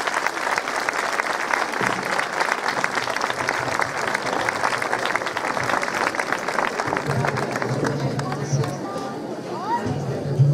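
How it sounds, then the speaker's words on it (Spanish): Audience applause at a 1950s-era bridal fashion show in La Galga, steady and dense with crowd murmur mixed in, thinning toward the end as a voice begins. "Un fuerte aplauso para Alba."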